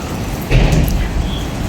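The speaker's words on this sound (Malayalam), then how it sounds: "അത് പുറത്ത് നല്ല ഹെവി മഴയായതുകൊണ്ടാണ് ആ സൗണ്ട് ഫുള്ള് കേൾക്കുന്നത്" Heavy rain pours outside a 175-year-old factory in Thiruvananthapuram, a dense, continuous roar that swells briefly near the middle, with no voices.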